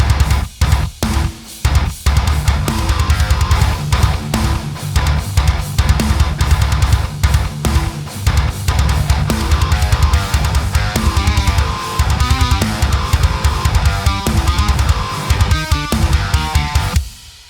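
A metal band mix of a song assembled from multitracks in Reaper, dense and loud throughout, with heavy low-end guitars and bass, pounding drums and constant cymbal wash, with a few brief stops near the start.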